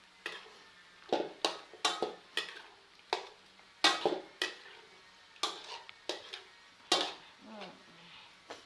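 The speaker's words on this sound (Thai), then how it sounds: "เดี๋ยวคุณแม่ผัดให้เขาละลายเข้ากันก่อนเนาะ" Pork belly stir-fries with southern Thai curry paste and beans, and a metal spatula strikes and scrapes the pan in a rhythmic run of sharp clacks about every half second over a faint sizzle, close and without speech.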